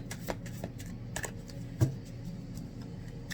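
Tarot cards being shuffled by hand, a soft papery riffle and rustle with light flicking clicks and one sharper tap, steady and close in a quiet room.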